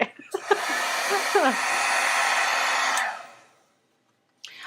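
A hair dryer blows on a watercolor card piece during card making, a loud steady whoosh that starts after a few brief knocks, runs for about three seconds, then winds down into silence.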